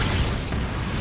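The Confringo fire spell explodes in the Hogwarts Legacy video game, a dense, rumbling burst that fills the whole second at steady loudness, with no speech.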